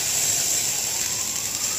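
Onion sautéing in a hot pan already used for buttered garlic shrimp, a loud, constant sizzling hiss that holds steady for the whole moment, with no speech over it.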